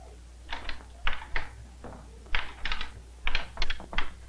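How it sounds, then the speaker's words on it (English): An accountant's wooden abacus at a rural Chinese brigade headquarters in the early 1980s clicks in quick, irregular bursts of bead strikes, close and fairly loud over a steady low hum. "The sounds at brigade headquarters are not the thrashing of farm machinery, but the clicking of his abacus"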